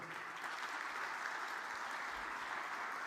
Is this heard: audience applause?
yes